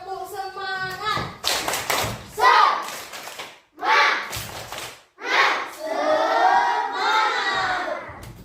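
A classroom of students performs the 'tepuk semangat' spirit clap, with quick bursts of clapping and thumps under loud group chanting and shouting, broken by brief pauses.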